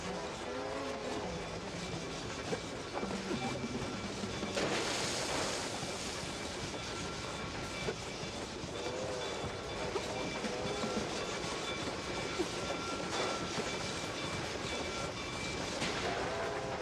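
A train rolls past in the detective video game MOUSE: P.I. for Hire, a steady loud rumble with rhythmic clickety-clack of wheels on rails lasting throughout, with no talking over it.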